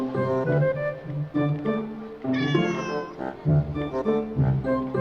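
A cat meows repeatedly in the video game Detective Di, giving a run of drawn-out, rising and falling meows close up with one higher, strained cry in the middle.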